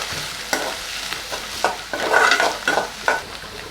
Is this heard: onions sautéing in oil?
yes